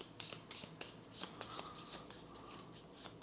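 Challenge cards from the Kinfire Delve board game being shuffled by hand, a quick run of riffling bursts and soft card slaps, close and fairly quiet with no talking.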